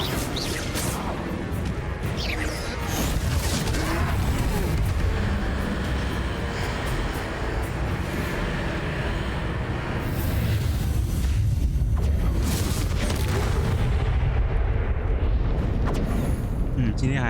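Confringo explosion spell in Hogwarts Legacy during a fight with a troll: a continuous rumbling blast and crashing debris under busy battle noise, with brief vocal sounds mixed in.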